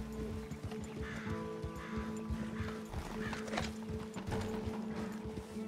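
Horse hooves clip-clop steadily with a whinny in the Red Dead Redemption 2 game world, over a low ambient bed of mechanical creaks and drones, close and continuous.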